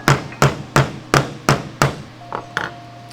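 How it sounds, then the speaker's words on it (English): An assembly hammer gently taps a spring pin into a firearm receiver, six crisp, evenly spaced metallic taps followed by two softer, lighter taps, close and alone with no talk. "we can gently tap this in with an assembly hammer"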